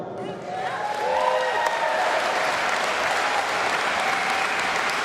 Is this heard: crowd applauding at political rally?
yes